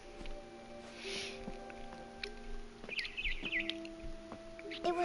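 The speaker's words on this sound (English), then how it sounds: "Then I heard chirping outside my window." A barn swallow chirps outside a window in What Remains of Edith Finch, a few faint high twittering calls over steady tonal game ambience and background hum.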